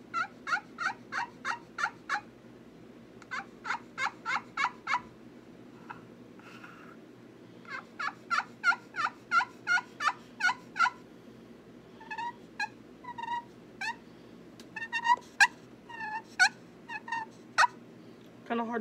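Series of turkey yelps and clucks from a handmade turkey pot call played with a striker, sharp rhythmic bursts in runs of several notes with short pauses, close and clear.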